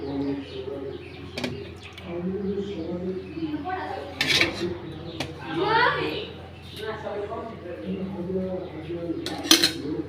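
Steel dishes and cutlery clink and scrape in sharp, scattered bursts as curry is served, close by, with birds cooing and people talking around them.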